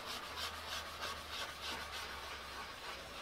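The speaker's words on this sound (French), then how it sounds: "la ponce va user la surface, va pénétrer dans les pores" Pumice powder rubbed in circles into a bare wood surface, making a steady close rasping scrub with a gentle rhythmic swell, heard alone.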